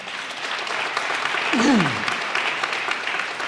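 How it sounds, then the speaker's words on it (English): Audience applause during Colorado's governor's 2026 State of the State address, a steady patter of clapping from the chamber with a voice sounding briefly over it. "I'm glad that reserves get an applause"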